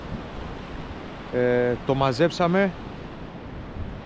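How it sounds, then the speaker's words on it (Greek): Strong wind blows across a seashore fishing spot, a constant broadband rush with waves underneath, while a person speaks briefly over it near the middle. "ο αέρας έχει δυναμώσει"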